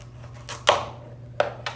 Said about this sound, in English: it might be easier if you cut your pumpkin in half again